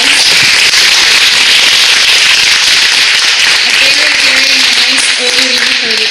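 Loud, dense applause from a science cafe audience, a steady wash of crackling claps that runs the whole time with no pause, with a faint voice rising beneath it toward the end.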